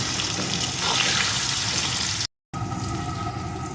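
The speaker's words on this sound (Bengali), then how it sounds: "এখন আলুটাকে লাল লাল করে ভেজে নেব" Potato pieces fry in hot oil for a mustard crab dish, a loud continuous sizzling hiss that cuts out briefly, then resumes just as dense.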